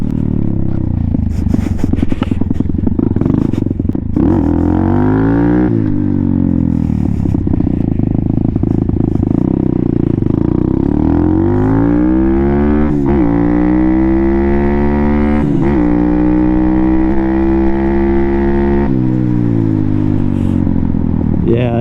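A Venom Thunder 125cc motorcycle with a Nibbi part installed runs through all four gears, its engine note climbing in pitch, dropping at each shift and rising again, loud and close the whole way.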